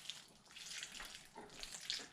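A soft, steady trickle of water pours into ground sausage meat for a couple of seconds, quiet and close, with no voices.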